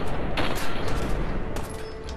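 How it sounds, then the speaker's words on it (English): Sustained gunfire in Fallout 4 during a raid on the Corvega Assembly Plant, a dense, continuous volley of rapid shots and booms filling the whole stretch at steady loudness. "Oh, you missed all the fucking shots."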